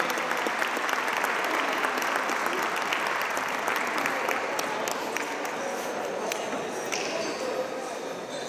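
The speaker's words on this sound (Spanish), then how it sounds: "Démosle otro fuerte aplauso" Applause from an audience at a school dance presentation of a second-grade class, encouraging the nervous performers; loud, continuous clapping throughout with a few sharper claps standing out and some crowd voices underneath.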